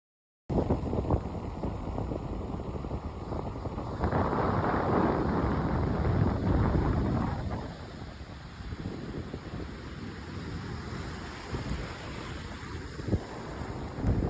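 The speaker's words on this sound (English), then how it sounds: "It's extremely windy though" Strong wind in Namibia roars and buffets the microphone continuously, gusting louder for a few seconds before easing, with no voices.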